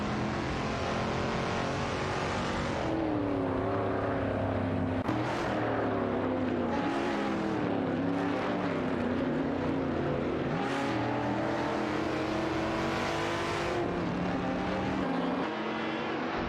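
Racing car engines in an AI-driven racing video game, including a Fiat X1/9 Dallara, drone and whine loudly and continuously, with several cars' tones rising and falling together as they accelerate and shift close by.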